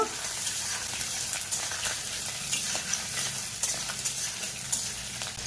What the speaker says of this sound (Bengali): চিংড়ি মাছ দেব চিংড়ি মাছ দিয়ে কিছুক্ষণ ভেজে নেব